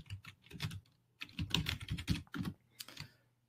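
A password is typed on a computer keyboard in a quick irregular burst of close, crisp keystrokes with short pauses between clusters, and no talk.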